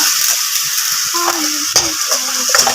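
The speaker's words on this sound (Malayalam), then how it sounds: "പച്ചസ്മെല്ല് മാറുന്ന വരെ നമ്മൾ നന്നായിട്ട് വഴറ്റിയെടുക്കുക" Onion mixture with chili paste sautéing in a pan at a home dinner party, a steady close sizzle with scraping stir strokes and short low hums cutting in now and then.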